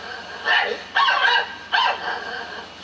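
A dog barks in a stage-musical film scene, three loud close barks spaced out over a low steady background hum, with no talking between them.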